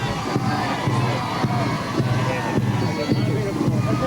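A large crowd cheering at a Mayo Gaelic football match, a steady roar of many voices with rhythmic surges, sustained throughout with no pause.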